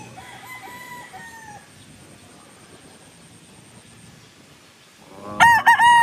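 A Boston Millionaire bloodline gamefowl rooster lets out a loud, close crow near the end, after a quiet stretch with faint distant crowing and a low hum in the background.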